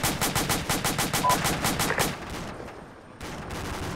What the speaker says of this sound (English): Seeing some kind of heavy gun from about 110.